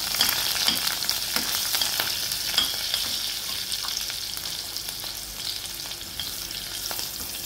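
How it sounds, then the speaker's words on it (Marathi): Green chilies and asafoetida sizzle steadily in hot frying oil, a close, continuous crackle and hiss with small pops throughout and no voices. "यावर मिरची घालून थोडा हिंग घालायचा आहे। मिरची आपण परतून घेऊ 1 मिनिट।"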